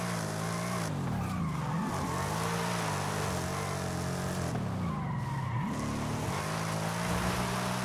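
A car in Forza Horizon 5, driven with a MOZA R9 wheel, drifts along a downhill section with a steady engine drone and two long swooping tire squeals near the middle and end, no talk over it.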